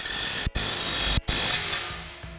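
Impact wrench with a swivel adapter and 15 mm socket tightening an exhaust clamp on a Silverado dual exhaust install, a steady close buzzing whir broken by two brief pauses between bursts.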